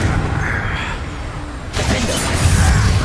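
A Confringo spell explosion in Hogwarts Legacy, a sudden loud burst and crackling blast after a short stretch of quieter rumbling, ringing out at close range.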